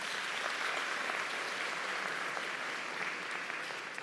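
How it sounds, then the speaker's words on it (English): A town hall audience applauds steadily, a sustained, even patter of many hands heard from a little distance at moderate volume. "please give another round of applause"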